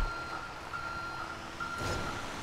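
A truck in the game GTA 5 sounds its reversing alarm, a steady series of evenly spaced electronic beeps over a low engine rumble, with a brief clunk near the end.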